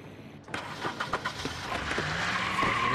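A car engine in The Wolf Among Us video game cranks and catches after a brief quiet moment, followed by a rising revving engine and tire noise, moderately loud.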